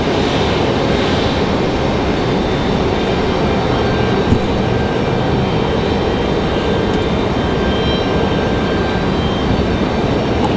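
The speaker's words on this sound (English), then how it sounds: "Frontier 1517 coming in from Philadelphia" A Frontier Airlines jet arriving from Philadelphia at Raleigh-Durham airport gives a continuous, loud engine roar that holds steady throughout, with no voices.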